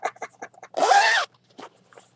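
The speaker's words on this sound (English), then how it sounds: "Look at how big that zipper is." A large zipper on a handmade lined bag is pulled in one quick, continuous rasping zip lasting about half a second, close and fairly loud, with soft handling sounds before and after.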